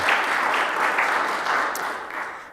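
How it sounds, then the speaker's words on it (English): An audience at a town council meeting applauds, a steady wash of clapping at moderate loudness that fades slightly toward the end. "can we give her a round of applause?"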